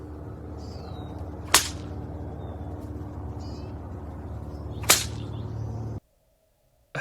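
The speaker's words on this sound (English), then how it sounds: "she even found her old whip and showed off she still has the moves" Catwoman's whip cracks twice, each a sharp, loud snap about three seconds apart, over a steady low background hum that cuts to near silence near the end.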